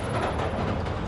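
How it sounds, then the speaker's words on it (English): Train rumbling past in Marvel's Spider-Man: Miles Morales, a steady loud rolling roar of wheels and cars close by for just over a second, no voices. "Wait for the train to come by."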